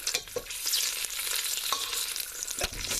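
Oxtail pieces browning in a hot pan, a loud, continuous sizzle and crackle of frying fat broken by a few knocks as the meat is turned and stirred.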